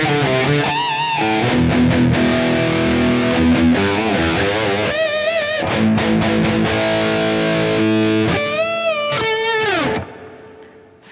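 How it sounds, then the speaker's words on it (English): High-gain distorted electric guitar played through a Harley Benton DNAfx Git Pro or Fractal Audio Axe-Fx III modeler, loud and dense sustained chords and bends with no talking, cutting off near the end. "that's it for the high gain tones"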